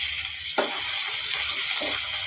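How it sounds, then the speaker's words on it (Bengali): Peas fry in a hot pan for dhaba-style soya keema, giving a continuous close sizzle broken by a couple of brief scraping stir sounds. "ভালো করে একটু ভাজতে হবে। আমি এর মধ্যে মটরশুঁটিগুলো দিয়ে দিলাম।"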